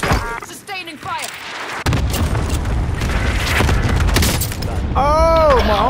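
Loud, sustained booms and blasts of a cluster airstrike in a military shooter game roll on continuously for several seconds, with chirping radio-like voice bursts at the start and end.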